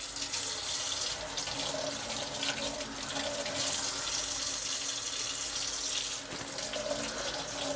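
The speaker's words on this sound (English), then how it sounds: "And we're just gonna fill the pot." Cold water runs steadily from a kitchen tap into a pot, a continuous close splashing rush that holds for several seconds with small shifts in tone as the pot fills.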